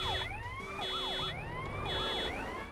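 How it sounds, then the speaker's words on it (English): Police car sirens in the video game GTA Definitive Trilogy during a chase: several overlapping electronic wails and yelps sweeping up and down, steady and fairly close with no talking. "If you honk while the police is chasing you, the sirens speed up or change tune."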